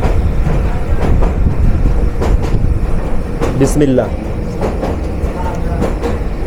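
Inside the moving Kishoreganj Express from Dhaka to Kishoreganj, a loud continuous rumble of the carriage rolling on rails with faint rhythmic clatter, as someone speaks a short word.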